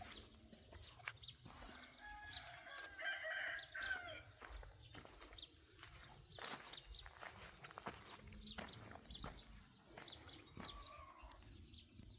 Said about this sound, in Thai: อยู่ในสวนก็มีน้องไก่